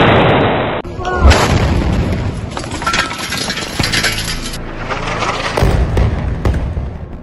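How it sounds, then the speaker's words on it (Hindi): A loud, dense blast of an Israeli strike explosion erupts almost at once and keeps rumbling and crackling for several seconds, with heavy low thuds underneath. "टारगेट लॉक होता है और तभी होता है एक जोरदार धमाका।"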